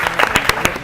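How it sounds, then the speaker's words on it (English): Audience applause at a national school quiz competition, a brief loud burst of crowd clapping with sharp individual claps. "Let's clap for them once again."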